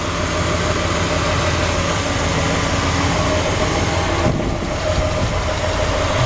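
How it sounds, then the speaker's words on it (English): Original engine of a 1974 Ford F100 running with the hood open, a loud, continuous, even rumble held steady throughout with no talk over it. "Great sounding engine."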